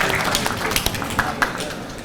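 A room full of people at a Keshe Nafshi gathering breaks into a round of applause, a dense patter of hand claps with a few sharper slaps standing out, steady and fairly close throughout.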